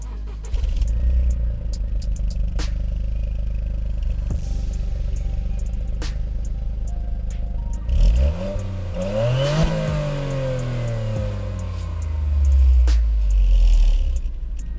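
A Toyota Yaris GR sits idling with a low rumble and light clatter. Its engine then fires up sharply and revs hard, the pitch climbing and falling through several loud, close blips.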